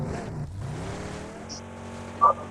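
A car engine in a battle royale video game revs and drones in a short burst, settling into a lower hum, with a couple of brief electronic game blips.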